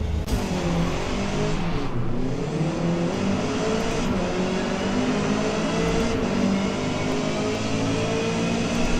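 A grid of race cars at the start of an online multiplayer race in the Forza Motorsport video game: engines drone and rev loudly and continuously, rising and climbing in pitch as the pack pulls away, with no talk.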